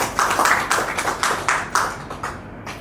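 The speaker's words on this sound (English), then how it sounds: "You can clap for yourself." A workshop audience claps in short bursts, a brief run of sharp, close, uneven claps that thins out toward the end.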